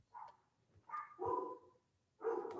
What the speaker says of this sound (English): as my dogs go wild in the background